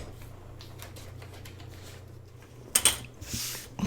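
A sewing machine stitches through paper scraps for a small junk-journal matchbook clip-on, a steady low mechanical whir running close and continuous, then ending in a few sharp clacks and rustles.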